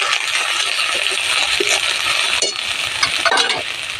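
Ginger paste, salt and turmeric go into a hot pan and get stirred, giving a steady broadband sizzle with a few scraping clicks and taps from the spoon, close and fairly loud with no talking.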